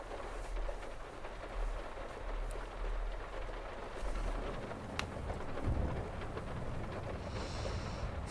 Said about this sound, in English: You're so worried about the rain?